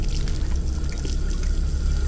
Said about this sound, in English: The shower goes on.